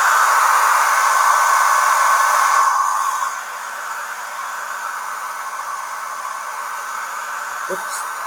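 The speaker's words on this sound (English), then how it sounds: "so let's use a hairdryer" A hair dryer blows to warm a tempered glass screen protector, giving a steady whirring rush that drops to a softer, lower level after about three seconds and carries on, with a small click near the end.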